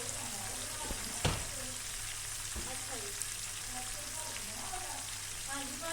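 Chicken legs frying in a pan, a steady crackling sizzle with scattered pops and one sharp knock near the start, accompanied by a low constant hum.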